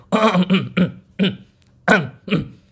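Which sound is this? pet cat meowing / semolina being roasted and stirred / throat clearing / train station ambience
throat clearing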